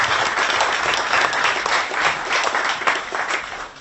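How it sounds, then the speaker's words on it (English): An audience at a bookstore event applauds steadily for several seconds, a dense wash of many hands clapping at close range with no voices over it. "Let's give them a round of applause"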